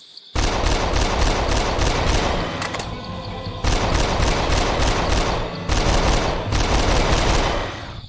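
AK rifle fire in the video game Dinosis Survival: long, dense automatic bursts rattling loudly, broken by two short pauses, with no talk over it.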